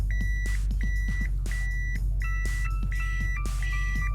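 A Toyota Celsior, a Japanese-market luxury sedan, sounds its reverse-gear warning as a string of about seven evenly spaced electronic beeps. They ring clearly over a low, steady engine idle hum inside the car.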